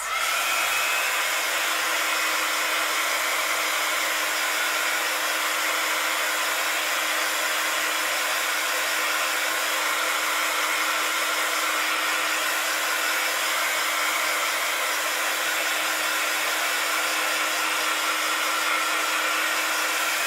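A hair dryer blows a continuous, steady rush of air for twenty seconds, drying glue or a wet surface on a revamped craft item, close and loud with no talking.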